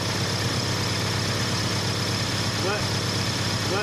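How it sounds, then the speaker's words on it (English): A Subaru EA82 engine idles with a steady, even hum throughout while people talk over it. "You gotta let it idle so it doesn't try to advance it."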